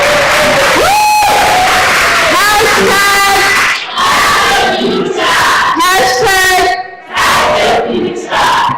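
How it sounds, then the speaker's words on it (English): A loud crowd cheers, whoops and yells after presentations at a work readiness training day, voices rising in sustained shouts with clapping beneath, nearly continuous across the stretch with brief dips. "Give yourself a round of applause."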